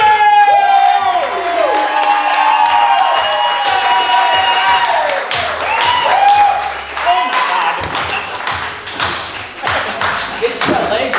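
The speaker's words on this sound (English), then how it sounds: "give a big round of applause for your opening roast champion, Tyler Jones!" A studio audience at a roast comedy competition claps and cheers loudly for the announced winner, with whoops and excited voices talking over the crowd noise.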